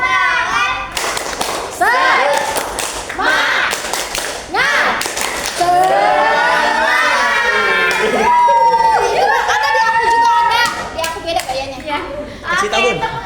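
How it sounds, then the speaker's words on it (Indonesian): A group performs a rhythmic spirit clap during an early-childhood education session, with sharp, close bursts of patterned clapping and voices chanting along, followed by lively talk. "Tepuk semangat."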